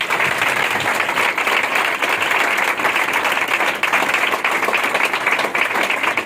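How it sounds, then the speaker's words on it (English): A church congregation claps and applauds together during a ministry session, a dense, continuous wash of many hands at steady loudness for the whole stretch. "Why not clap for Jesus?"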